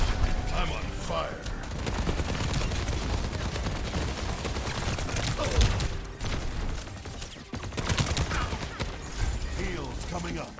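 Overwatch 2 gunfire in a hero shooter match, steady clattering shots and mechanical ability sounds running continuously under a voice talking.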